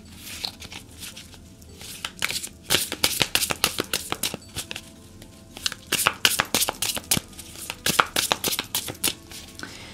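Oracle cards being shuffled by hand, a rapid run of crisp riffling snaps and flutters in quick bursts, close and fairly loud, with no talking over them.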